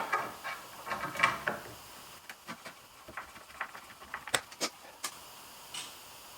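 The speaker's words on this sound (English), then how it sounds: "get these self-tapping screws in" Self-tapping screws driven into a JessEm Clear Cut tablesaw accessory give quiet, scattered clicks and faint ratcheting ticks, irregular and close by, with short pauses between bursts.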